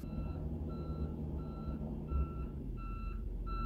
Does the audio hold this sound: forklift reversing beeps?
yes